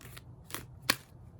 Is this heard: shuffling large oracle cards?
yes